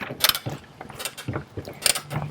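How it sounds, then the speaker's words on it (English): A 3/8-inch ratchet drive tightens down an ALPHA MOTO motorcycle shock coil spring compressor, giving a few short, close mechanical clicking bursts spaced irregularly apart, with no one talking. "You'll take your 3/8 ratchet drive, you'll put it inside, and you'll start to tighten down."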